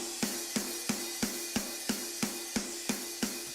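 A lone snare drum keeps a steady beat of about ten evenly spaced crisp hits, bright and close over a faint ringing hum, with nothing else playing.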